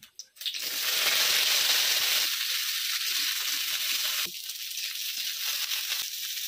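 Cauliflower pieces frying in hot mustard oil with cumin seeds and a dried red chilli, a loud steady sizzle that starts abruptly and continues, easing slightly partway through, with no voices.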